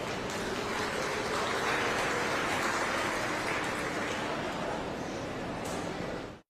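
A crowd at a Berkeley County youth fair beef show claps in a steady, dense wash of applause that holds evenly for several seconds before cutting off abruptly.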